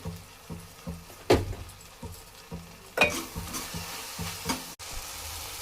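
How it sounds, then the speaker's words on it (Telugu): Tomatoes frying with chili powder in a pan, a steady sizzle under repeated rhythmic scraping and stirring strokes, with a couple of louder knocks. "టమాటా ఇలా వేగిన తర్వాత దీనికి తగిన కారం, నేనైతే 2 స్పూన్స్ కారం యాడ్ చేశాను"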